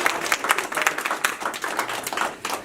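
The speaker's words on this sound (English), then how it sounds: "Can we please give her a round of applause" A room full of people applauds at the Hopeworks 2019 pitch competition, with dense, lively clapping that carries on throughout at an even level.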